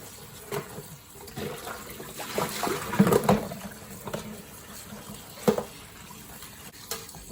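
Water spinach leaves soak and swish in a basin of water while being washed, giving gentle sloshing, stirring and splashy churning with a few sharper splashes, close and alone.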